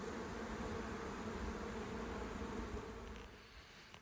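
A colony of honey bees buzzing at a hive entrance after a nucleus was moved into a full-size hive: a steady, dense droning hum that fades slightly toward the end.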